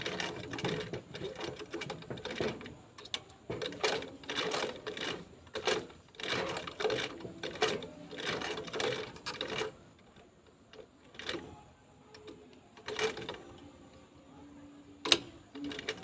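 A sewing machine stitches and back-stitches along a bag, with several runs of rapid mechanical needle chatter separated by brief pauses and a few sharp clicks near the end.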